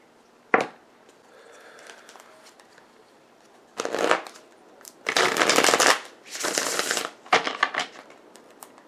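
Tarot cards are shuffled and drawn in several close, crisp riffling bursts of varying length, with a sharp tap at the start and quiet gaps between.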